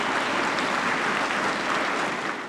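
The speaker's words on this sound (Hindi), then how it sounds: "इसके लिए ज़ोरदार ताली होनी चाहिए।" Audience applause at a conclave hall, dense continuous clapping from a large crowd, fairly distant and even throughout.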